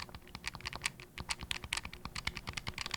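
Rapid plastic button clicks on a Nintendo Switch Pro Controller tapped close up, a dense irregular clatter of small presses continuing throughout with no voices.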